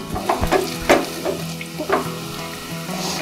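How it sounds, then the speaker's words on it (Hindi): Cauliflower pakoras fry in hot oil in a kadhai over a low flame, giving a close, steady sizzle broken by sharper crackling pops. "जितना आपकी कढ़ाई में आ सके आप उतना ही डालिए मेरा तो हो गया अब इसको धीमी आंच में पकने देते हैं"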